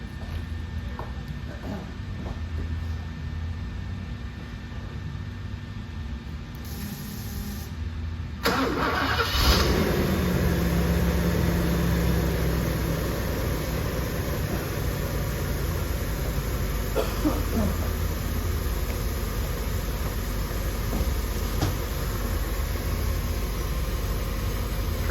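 A 1988 Mercedes 560SL cranks and fires on a cold start, its engine catching around eight seconds in and settling into a steady, close idle that runs alone to the end.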